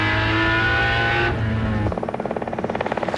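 Touring cars racing at Bathurst, a Tom Walkinshaw Jaguar numbered 9 followed by a Holden, sound as a loud, sustained high-pitched engine howl that drops in pitch as one car passes, then a rapid pulsing drone as the next roars by.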